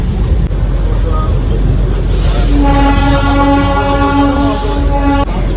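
Train carriage interior on a toy train ride, with steady rumbling running noise and a sustained horn-like tone sounding for several seconds, heard up close from inside the nearly empty coach.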